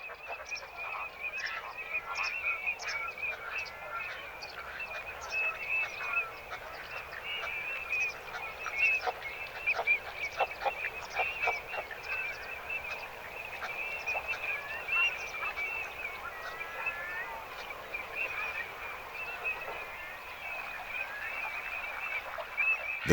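Ducks and wading birds such as pied avocets and redshanks call across a Greek lake, with a dense chorus of overlapping chirps, honks and piping notes carrying steadily at moderate distance, no voices present.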